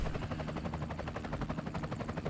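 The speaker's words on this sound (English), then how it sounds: "Yep, the helicopter." Rapid, even rotor thumping pulses continuously at a moderate distance, the chopping beat of a helicopter passing overhead in the video game Burnout 2: Point of Impact, with no voices.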